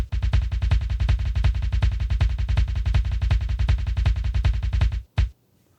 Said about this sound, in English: Let's do some double bass pedal stuff